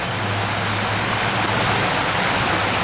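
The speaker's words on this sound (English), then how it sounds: "And the series of waterfalls." Steady rushing water from a series of small waterfalls on a themed mini golf course, a continuous broadband splash close by with no talk.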